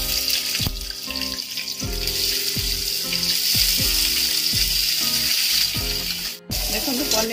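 Paneer cubes fry in hot oil in a pan, a loud continuous sizzle with repeated clanks of a spatula against the metal, one brief dropout near the end.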